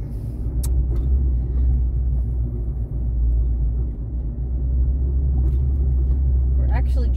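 A car engine rumbles low and steady from inside the moving vehicle, with faint road noise and a few small clicks on top. A voice talks over it throughout.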